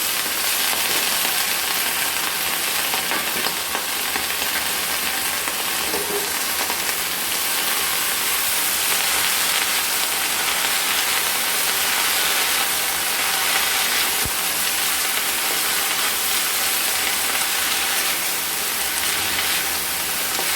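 Chopped spinach frying in a pan gives off a constant, even sizzle and hiss that holds steady throughout, moderately loud and close, with no voices.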